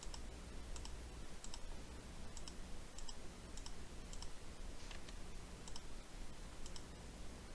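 Mouse clicks come in a steady run, single sharp ticks about every half second or so, moderately close over a low steady background hum while drafting in CAD software.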